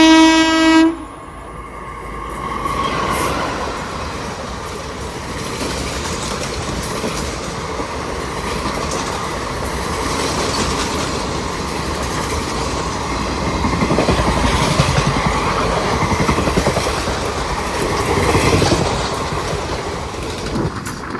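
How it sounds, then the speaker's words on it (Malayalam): Train No. 221, the Pune–Ernakulam superfast, passes near Bekal Fort. A short horn blast is followed by a long, close rumble of wagons with rhythmic clickety-clack and faint wheel squeal that swells and fades. "ഈ ഒരു 221 number Pune Ernakulam super fast"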